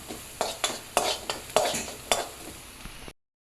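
Kothu chappathi stirred in a pan over a low flame, a series of sharp scraping and clinking strokes of the spoon against the pan over a soft sizzle, then sudden silence.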